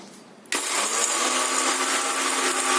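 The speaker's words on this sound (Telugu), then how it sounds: "ఇప్పుడు అది మిక్సీ వేసేసుకుందాం." A kitchen mixer grinder switching on to grind fried shallots, a short pause then a sudden loud, steady high-pitched motor whir that continues to the end.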